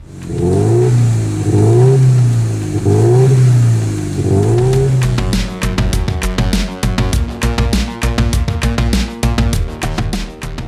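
A Subaru EJ20 two-litre four-cylinder boxer engine revs up and down in several swooping pulls, then settles into a rapid, rhythmic loud idle with sharp repeated bursts.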